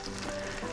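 Lionfish wings and eggs frying in oil give a short, steady crackling sizzle, close and even, with no voices.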